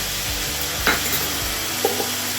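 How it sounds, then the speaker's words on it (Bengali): Papaya and potato pieces fry in a pan with spice paste for a Bengali papaya curry, a low sizzle broken by two or three scraping stirs of a spatula, close and with no talking. "পেঁপে আর আলুগুলো আমি একটু ভালো করে ভেজে নিচ্ছি"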